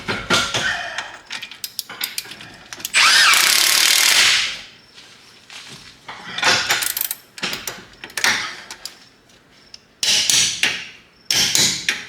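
An impact wrench runs a fastener down on an Altima being prepped for racing, firing in loud short hammering bursts, one long sustained rattle, then several more brief bursts separated by pauses.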